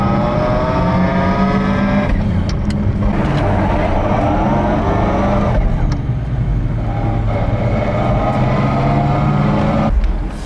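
A Lexus IS300 with a swapped W58 manual transmission drives loudly, its engine roaring steadily throughout with shifting pitch and short dips, close and dominant.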